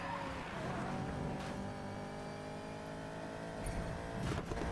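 A 2004 Ford Mustang GTR races in the Need for Speed Payback video game, its engine droning in a steady, loud, harmonic roar that surges slightly near the end with a hint of tire noise.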